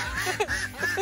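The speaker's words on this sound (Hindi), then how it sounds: "और ये रहा हम लोग का डक, डक पर भी डक" Ducks quacking at a free-range chicken farm, a few honking calls rising over a steady bed of outdoor farmyard noise, fairly near and moderately loud throughout.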